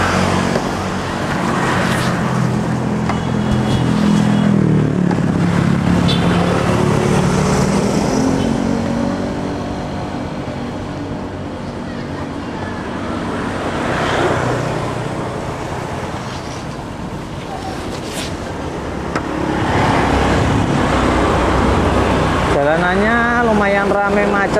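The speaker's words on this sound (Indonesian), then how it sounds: "Jalanannya lumayan ramai macet" Busy, congested road traffic of cars and motorcycles near Aeon Mall in Deltamas, Bekasi, heard as a steady engine rumble with vehicles passing close by, under a person talking through most of the stretch.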